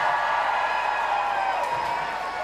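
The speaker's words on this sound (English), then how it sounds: "gets a big round of applause" A stadium crowd applauds and cheers at a women's football match between Chelsea and Everton, a steady distant roar of clapping and voices holding at an even level throughout.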